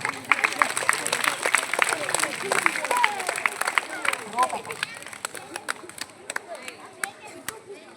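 Audience clapping after a children's karate sword defense demonstration, dense scattered claps from a crowd that thin out toward the end, with some crowd murmur mixed in.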